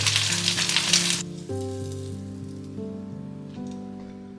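An egg frying in a pan, a bright loud sizzle for about a second before dropping to a faint crackle under a steady low hum, with brief clicks.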